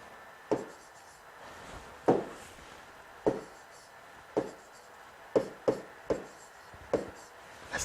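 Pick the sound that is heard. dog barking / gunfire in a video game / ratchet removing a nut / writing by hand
writing by hand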